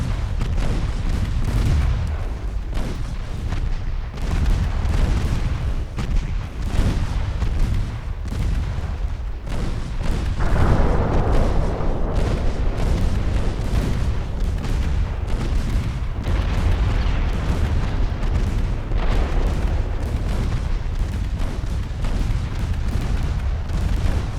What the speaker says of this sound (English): But now Bretagne is actually firing back with her main guns.